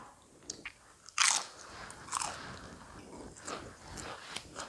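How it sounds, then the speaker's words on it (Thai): Crunchy fried pork wontons bitten and chewed up close, with a sharp loud crunch followed by several quieter crunching chews in a quiet setting. "เนี่ยค่ะกินกับน้ำจิ้มอย่างนี้เลยก็ได้ค่ะ"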